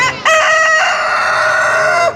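A large Burmese rooster crows loudly and close by, one long drawn-out call with a rising start and sustained wavering tone, heard alone without talk.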